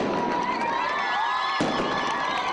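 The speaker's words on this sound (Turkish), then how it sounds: "Gece havai fişek gösterisiyle sona erdi." A nighttime fireworks show closes a political rally and concert in Nusaybin. Whistling rockets rise in sliding tones over crowd noise, and a sharp burst breaks in midway.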